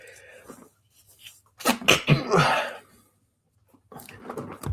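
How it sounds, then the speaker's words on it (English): A sudden sneeze bursts out after a quiet stretch, loud and close, followed by a short pause before faint movement and voices resume. "Sneezing on live YouTube."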